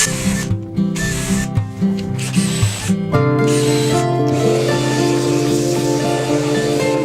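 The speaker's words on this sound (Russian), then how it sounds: "фрезерую" A router mills a recess for a luxury door handle, sounding as a loud, continuous whining drone with rattling, uneven cutting noise that steadies into a constant hum.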